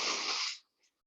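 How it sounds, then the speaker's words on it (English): One strong, breathy exhale through the mouth during a yoga breathing exercise, loud and close, lasting about half a second before a brief faint trailing breath. "Breathing through it, through the mouth."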